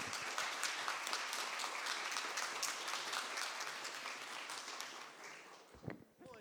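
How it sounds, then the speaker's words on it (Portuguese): An audience at a round-table seminar on artificial intelligence in mining applauds a panel with dense, sustained clapping that fades toward the end, followed by a brief voice. "Eu quero pedir mais uma salva de palmas para a turma."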